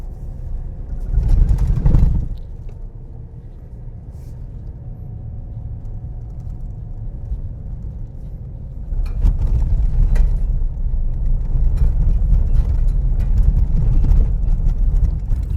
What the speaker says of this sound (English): We're gonna hit this dirt road and just see how these shocks perform.